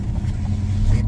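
A Chevrolet Blazer in performance mode accelerates hard, its engine a loud, close, deep roar that holds steady through a brief burst of full throttle.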